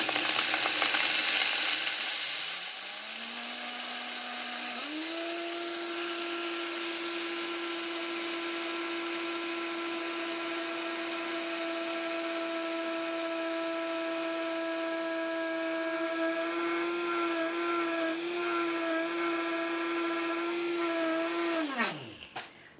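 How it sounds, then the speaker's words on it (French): Vitamix blender grinding dry wheat grains into flour, a loud steady whine that climbs as the motor ramps up to high speed, holds a sustained roar for about twenty seconds, then winds down and stops. "Je vais broyer les grains de blé durant 1 minute."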